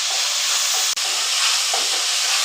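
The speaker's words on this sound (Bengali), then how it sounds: "আদা রসুনের পেস্টটা অনেক নেড়ে করে কিছুক্ষণ ভেজে নিতে হবে" Ginger-garlic paste frying in hot oil while it is stirred, for a home-style tilapia and potato curry: a loud, steady, close sizzling hiss with one brief dropout.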